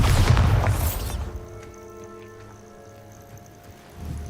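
A Bombarda spell explodes in Hogwarts Legacy: one loud, broad blast that booms for about a second, then dies into a quiet hum of the game's background before a soft rumble returns.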